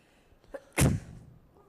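A single sharp sneeze bursts out near the microphone during a campaign talk about climate action in Colorado, preceded by a short intake of breath and followed by quiet room tone.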